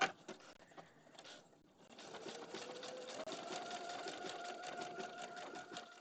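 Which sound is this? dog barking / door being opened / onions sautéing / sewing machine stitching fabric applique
sewing machine stitching fabric applique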